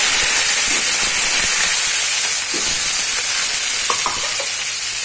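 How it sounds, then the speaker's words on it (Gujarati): Garlic frying in a pan as it is stirred, heard as a loud, steady hiss of sizzling oil with faint scrapes and clicks from the utensil beneath it. "લસણ ને થોડુંક આપણે હલાવી લેશું"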